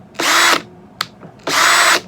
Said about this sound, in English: Gonna put it on drill